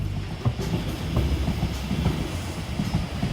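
A train rolling along the rails near the Las Planas station in Catalonia, with a steady low rumble and repeated clacking over the track joints, fairly close and continuous with no talking.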